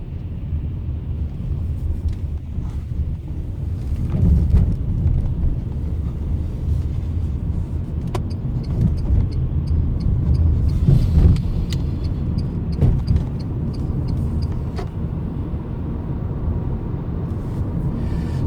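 Renault ZOE electric car approaching a roundabout after coasting downhill, heard from inside: a low, steady road rumble and tyre noise that swells and eases gently, with faint higher whine at moments, no voices.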